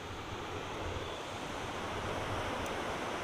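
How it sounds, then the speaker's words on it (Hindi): Canal water pours out and churns into waves, giving a steady, loud broadband rush with no break and no voices. "पानी निकल रहा है, और जो लहरें बन रही है ना, लहरें बड़ी ज़बरदस्त लग रही है"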